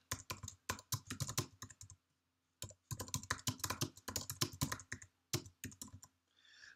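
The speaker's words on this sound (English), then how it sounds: "Simply type a message." Computer keyboard typing a short message: two bursts of rapid, close key clicks separated by a brief pause, ending with a faint tail, no voices.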